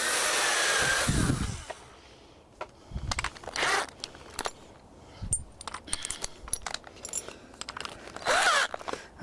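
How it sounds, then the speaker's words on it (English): Drill bit boring through PVC pipe for a hydroponics build, heard as several bursts of grinding, crunching cutting noise with short pauses between, close and fairly loud, with no talking. "I start with a smaller drill because it's easier to go through."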